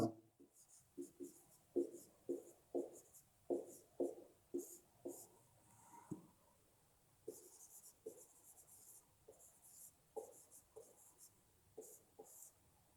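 Pen writing a heading by hand on paper, a run of close scratchy strokes in uneven rhythm, some quicker and louder, with a few quieter pauses between words.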